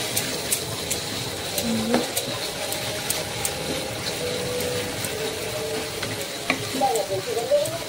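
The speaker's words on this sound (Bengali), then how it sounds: "এখানে আদা রসুন পেস্ট দিয়ে দিয়েছি, আগে রসুনটা ভেজে নেবো।" Garlic and ginger-garlic paste fry in a pan, giving a steady sizzle with stirring scrapes and faint clinks throughout, and a brief voice murmurs in the background.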